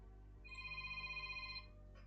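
A phone ringtone plays during a game development stream, a steady electronic tone pattern running for about a second over a constant low background hum, then cutting off.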